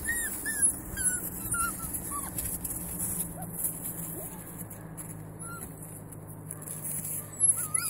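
Six-week-old elkhound puppies whimper and yip in short, high whines scattered through the first few seconds, set against steady outdoor background noise on a mountain hike, growing sparse later.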